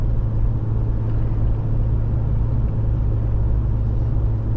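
A car cruising along Route 66 through the hill cut at El Trovador Hill, a steady low engine and road rumble heard from inside the vehicle, with no talking.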